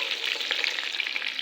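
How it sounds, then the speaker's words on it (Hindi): Chicken pieces fry in hot oil in a pan, giving a steady close sizzle with fine crackling pops throughout, and no talk. "तो चिकन मैं फ्राई करके निकाल रही हूँ।"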